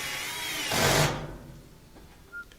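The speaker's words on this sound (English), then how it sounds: "put in these 2 screws in the front that are holding down the gas valve assembly." A power screwdriver drives screws holding the gas valve assembly of a gas dryer: one short whirring burst near the middle, then small metallic clicks and handling noises afterward.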